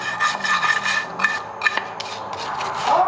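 Grimy engine parts from a 5.7 liter motor are scrubbed clean with degreaser, giving a close, steady rasping scrub in repeated strokes that carries on without pause.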